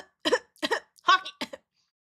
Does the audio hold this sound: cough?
yes